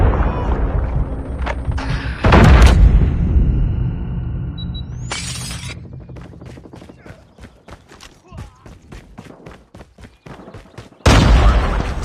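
MG42 machine gun in the mobile shooter Call of Duty Mobile fires loud, dense bursts, then a rapid rhythmic string of sharp cracks. A heavy burst comes at the end, with game voices and effects around it.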